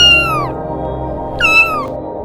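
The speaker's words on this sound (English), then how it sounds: "Luna twines around Natasha's ankles as she dresses, meowing loudly for attention." A cat named Luna meows loudly for attention, letting out two drawn-out, falling meows about a second apart, close and clear over a quiet low hum.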